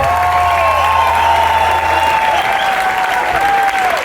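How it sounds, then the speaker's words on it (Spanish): A concert crowd at Sala Capitol in Santiago, at a show, claps loudly and continuously, with cheers and whistles riding over the dense applause. "Fuerte aplauso, por favor."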